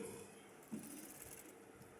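A sewing machine stitches steadily, giving a low, even mechanical whir that runs through the whole moment at a quiet level with a slight bump partway through.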